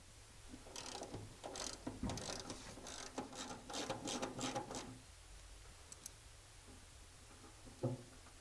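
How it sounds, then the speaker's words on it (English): Ratchet wrench working a bolt loose on a 1943 Willys MB during body tub removal, heard as quiet, close bursts of mechanical clicking over about five seconds, then a few faint knocks. "I'll remove this bolt the same way I did on the driver's side."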